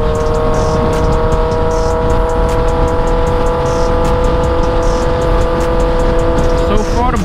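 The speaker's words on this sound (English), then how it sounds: "Bike is running good, man." A Honda CBR 1000 motorcycle with a Jardine exhaust runs at a steady, loud, throaty drone, close by and unbroken for the whole stretch.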